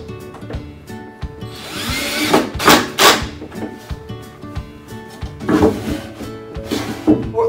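A drawer on a new PawHut two-story deluxe rabbit hutch with ladder and run slides open and shut several times, with wooden knocks and scraping rattles, close and fairly loud, no talk.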